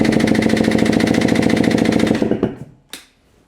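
A 2024 KTM 300 EXC TBI two-stroke engine cranking over for a compression test, a rapid, loud, even chugging pulse lasting about two seconds, then slowing and stopping with a couple of sharp clicks.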